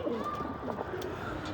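Pigeons coo repeatedly on a rooftop loft housing racing birds, including a Danish pigeon, with steady soft cooing calls close by and no talk.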